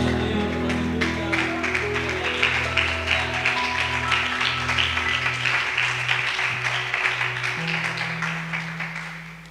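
A church congregation at an evangelical service claps steadily and densely for nearly ten seconds, with sustained keyboard chords playing beneath the applause.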